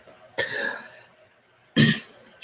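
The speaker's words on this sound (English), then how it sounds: "She will clear her throat," A woman clears her throat, two short rough bursts separated by a brief pause, close and alone.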